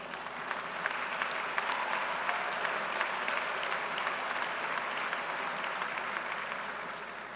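Sustained, steady applause from a large audience at a university commencement ceremony, dense clapping filling the hall evenly from start to finish without any speech over it.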